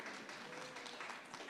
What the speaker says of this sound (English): it's the right time to clap your hands